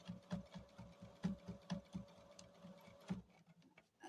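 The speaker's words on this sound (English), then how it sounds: "we're just going to sew right over that seam or that stitching again" A sewing machine stitching over a quilt seam, its needle chattering in a fast, steady rhythm with a low mechanical hum underneath, close but fairly quiet, stopping briefly near the end.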